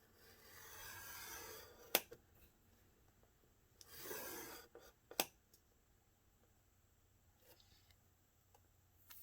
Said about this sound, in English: I'm going to score my cover at 4¼ inches.